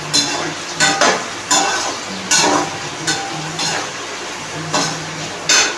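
Hot oil sizzling in a pan, broken by about eight rhythmic bursts of stirring scrapes that swell and fade; fairly close and loud.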